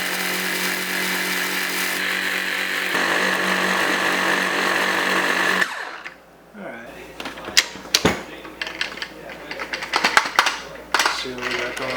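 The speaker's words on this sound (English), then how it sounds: "I'm gonna like grind this in a little smaller bits first" Black sesame seeds being ground into smaller bits, a loud continuous whirring grind for several seconds that cuts off, followed by clattering and knocking, with a person talking.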